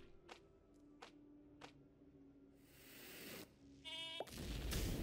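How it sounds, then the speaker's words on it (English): Sheep bleating and bursting in the video game Phobies: a few sharp clicks and a faint bleat, then rising hissing effects and a crisp explosive burst with a rising tonal whistle, closing in a loud noisy blast. "Little sheep explosion."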